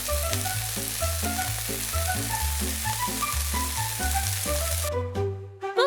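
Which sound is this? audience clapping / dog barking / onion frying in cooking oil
onion frying in cooking oil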